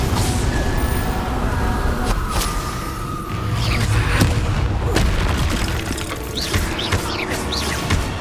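A Confringo spell explodes in the Hogwarts Legacy video game: a loud booming blast over a dense, continuous layer of mechanical clanks, crackles and game noise, with no clear talk.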